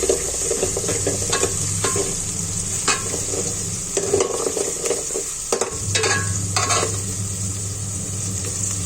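Poha frying in a pan while being stirred, a steady sizzle running throughout with repeated scraping strokes of the spoon, close and fairly loud, with no talking.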